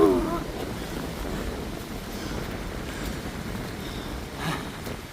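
Wind blows across a Korean mountainside in a steady, fairly quiet broadband rush, with slight gusty swells.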